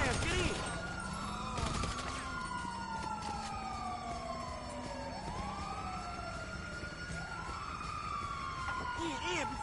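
Wailing ambulance siren in the video game GTA V, sweeping up and down in repeated cycles, with gunfire bursts and shouting voices over it.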